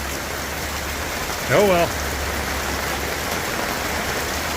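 Steady rain falls on a muddy yard, a constant loud hiss throughout, with a person briefly speaking over it.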